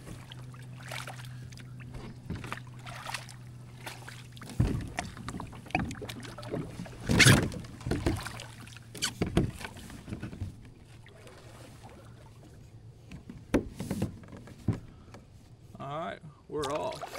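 Paddle strokes from an Old Town Sportsman 120 kayak out on the water, soft splashes and drips arriving irregularly close by, with wind buffeting the microphone and a steady low hum beneath.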